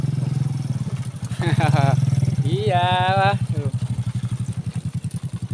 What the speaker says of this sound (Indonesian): Banyak juga yang kesini ya pakai motor itu ya